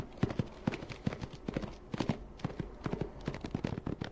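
In the Pax Americana video game, a horse trots up in response to a whistle, rapid clip-clopping hoof beats in a steady rhythm, moderately close and continuous throughout.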